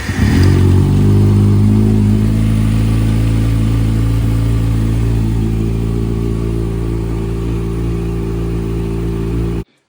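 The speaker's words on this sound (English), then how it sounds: "So I'm gonna go ahead and start the bike up here." A Kawasaki ZX6R sport bike, just repaired after a cam chain tensioner reset for ticking and rattling, fires up and settles into a loud, steady idle nearby before cutting off abruptly at the end.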